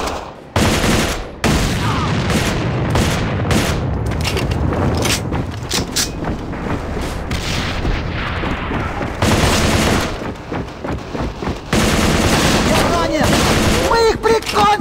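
Grenade blast amid heavy gunfire in the online shooter A.V.A. during free-for-all play: dense, loud, continuous volleys of rifle and automatic fire with sharp booming bursts, and voices under the shooting.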